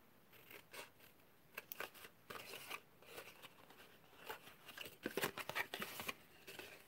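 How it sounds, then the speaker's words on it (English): Scissors snipping small notches into stamped paper for a chocolate gift box, a series of crisp, close cuts and rustles with quiet gaps, growing busier near the end. "Just going to cut these little bit notches out."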